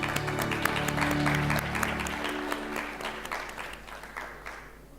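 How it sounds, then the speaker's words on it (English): Applause from the audience at a press conference celebrating Muaythai's IOC recognition, rising over fading background music, clapping moderately loud and thinning toward the end. "Let us celebrate IFMA with another applause, please"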